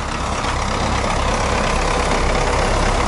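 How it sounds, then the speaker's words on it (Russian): Steady, loud idle of the A-41 diesel engine on an MTZ tractor, a dense low rumble with no speech over it. "Это что, мотор 41-й?"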